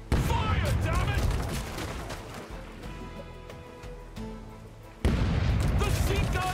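Heavy cannon broadsides in the pirate video game Rogue Waters, loud booming volleys up front that fade into ringing tones and music, then another booming salvo hits near the end.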